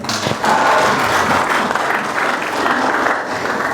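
An audience at a launching ceremony in a hotel hall claps loudly and continuously, a dense burst of many hands that starts abruptly and keeps going without any speech.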